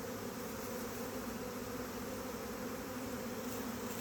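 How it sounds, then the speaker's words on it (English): A swarm of honey bees streams into a nuc box, producing a soft, continuous buzzing hum that stays even and fairly faint throughout, with no talking. "So we've got our nice river of bees going in right now"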